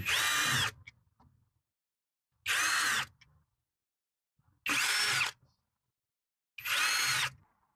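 A compact cordless hand drill drives a 5.5-inch screw into a solid wood tree stump in four loud, steady whirring bursts of under a second each, separated by short quiet pauses with faint handling clicks.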